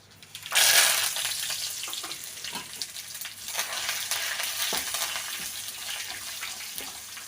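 A tempering of mustard seeds, cumin, dried red chillies, garlic and curry leaves hits hot oil with a sudden loud hiss, then settles into steady crackling sizzle for several seconds, close and alone.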